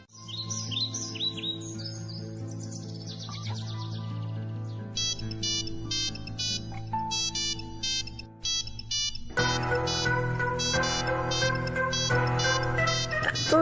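A phone ringtone plays a bright, melodic, bird-like chirping tune that loops steadily and gets louder and denser near the end. It is close and clear, with no talking over it.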